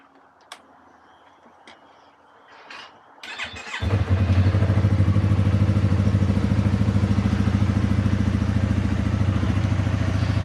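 A Yamaha R3 motorcycle is started after a shock job and settles into a steady, loud, close running drone, following a few quiet clicks and thumps.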